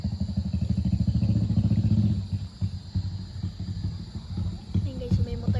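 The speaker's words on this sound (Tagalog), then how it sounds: "May motor na dumadaan." A motorcycle rumbles past on a rural farm path during an outdoor picnic, its engine loud and close at first and then fading, with a voice speaking over it partway through.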